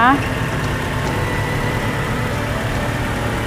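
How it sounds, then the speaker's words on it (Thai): A 2013 Ford Ranger pickup engine idles steadily and smoothly after a brief start-up, a low continuous rumble with someone talking over it. "อันนี้ติดเครื่องยนต์แล้วนะคะ เครื่อง นิ่งมากนะคะ เครื่องเงียบนะคะ"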